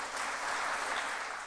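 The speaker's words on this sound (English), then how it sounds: "let's cheer up and applaud all the great achievers of this evening" Audience at an awards ceremony for achievers with disabilities applauding, a broad, even wash of many hands clapping at once, sustained and moderately loud with no talking.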